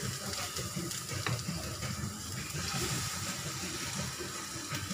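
An egg mixture with onions, ginger and green chilies cooks inside capsicum in a pan, giving a steady, even sizzle that holds unbroken throughout.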